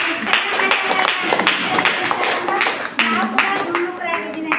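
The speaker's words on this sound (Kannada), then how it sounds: "ಜಯಮ್ಮನ ಒಂದ್ಸಲ ಬರಲಿ ಜೋರಾಗಿ ಚಪ್ಪಾಳೆ" An audience claps loudly in a dense, continuous burst of applause, with people talking over it throughout.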